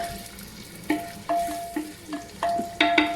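Onions frying in hot oil in a clay handi, stirred with a wooden spoon, with a steady soft sizzle broken by several scraping stirs.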